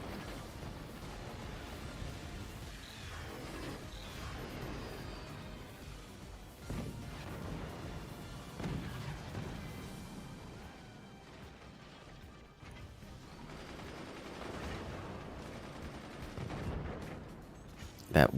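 Dense, continuous battle noise from the strategy game Forts, with repeated gunfire, booming impacts and crashes layered over each other, moderately quiet, under intermittent talk.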